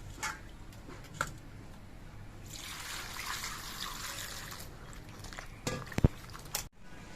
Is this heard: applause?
no